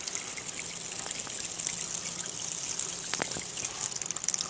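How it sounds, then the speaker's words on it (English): Spring water trickles and gurgles steadily outdoors, a soft continuous wash of liquid with a few brighter splashes, fairly faint and with no talking. "But here, this is spring water."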